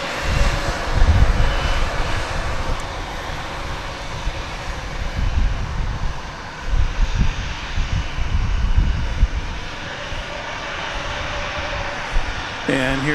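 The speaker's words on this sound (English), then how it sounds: "There goes American Flight 1734. It's going to Kansas City, 737-800." An American Airlines Boeing 737-800 departing DFW for Kansas City produces a steady, moderately loud engine roar with fluctuating low rumble throughout.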